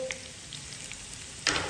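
Tempering (tadka) for green moong dal sizzling in hot oil, a steady close crackling fry that flares into a louder hiss near the end, with no talking.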